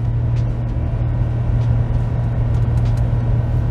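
A Chevy 2500 pickup's 6.6L gas V8 revs high while engine braking and towing a trailer on a hill, holding a loud, steady drone from inside the cab.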